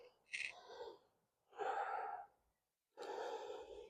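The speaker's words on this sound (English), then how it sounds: "A rough sound like an ocean over your throat for more firing up your center" Three rough, ocean-like ujjayi breaths drawn through a constricted throat during a vinyasa yoga flow. Each is a close, hissing rush of about a second, separated by short pauses.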